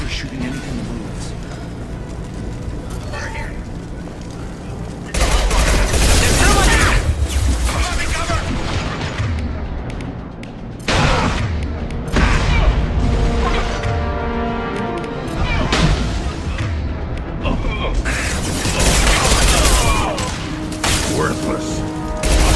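Battle gunfire in the video game Mass Effect 2, with Blue Suns and Vulture mercenaries firing: loud sustained bursts and booming impacts swelling and dropping, mixed with game sounds and voices.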